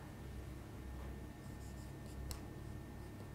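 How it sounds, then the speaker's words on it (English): Chalk or pen writing out an equation during a complex analysis lecture, faint scratchy strokes with a sharper tap near the end, heard alone against a steady background hiss. "I'm going to write that as k pi"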